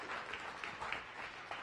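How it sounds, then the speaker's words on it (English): Applause from a science cafe audience welcoming a guest speaker, faint, brief steady clapping from a small crowd, heard from a distance. "Give him a round of applause."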